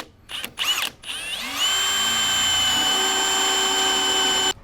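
A power nutsert tool sets rivet nuts while fitting a rear door table in a Jeep Wrangler JK: a few short whirring bursts, then a steady, loud, high-pitched motor whine held for about three seconds before stopping abruptly, with no talk.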